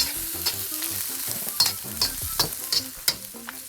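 Tiger prawns stirred in a spicy chili garlic sauce with tomatoes and serrano peppers, a lively sizzle with repeated scraping strokes and spoon taps against the pan, close and clear.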